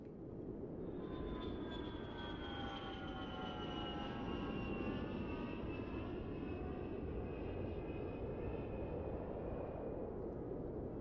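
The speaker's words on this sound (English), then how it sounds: "Overhead, a plane roared past." Airplane roaring past overhead, a steady engine drone with a slowly falling whine that holds for the whole stretch, fairly distant and unbroken by voices.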